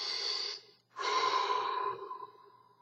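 Slow, focused human breathing, close and soft: a long airy exhale, a brief pause, then another drawn-out breath that gradually fades away, with no speech.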